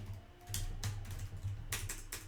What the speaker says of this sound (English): I'm typing that in as well.